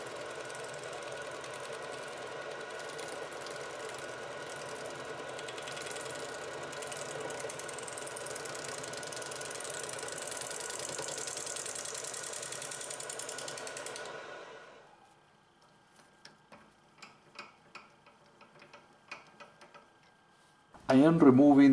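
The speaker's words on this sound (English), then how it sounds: "I use the gouges Irish profile wing as a scraper and I keep the tool handle pointing down to perform a shear scraping cut" A gouge shear-scraping a natural edge crotch wood bowl on a lathe gives a steady, close scraping hiss with a hum underneath for about fourteen seconds, then falls to light taps and near silence, ending in a brief loud burst.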